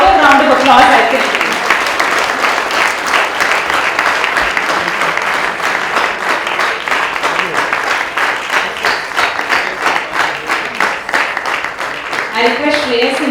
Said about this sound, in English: We can have a louder round of applause,